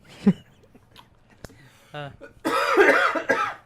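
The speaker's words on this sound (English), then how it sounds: "I'll just cough" A voice speaks briefly, then a loud, close cough bursts out in a rough, raspy spasm lasting about a second.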